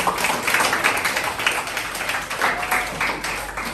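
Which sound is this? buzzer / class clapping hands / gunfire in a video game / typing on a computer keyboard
class clapping hands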